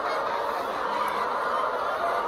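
Bored chickens cluck and murmur together in a henhouse, a dense continuous chatter of soft calls at moderate distance.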